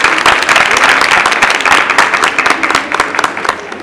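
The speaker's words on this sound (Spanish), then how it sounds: "Un aplauso para el maestro, por favor." Steady, dense applause from an audience greeting a storyteller on stage at a book fair, loud and continuous throughout with no voices over it.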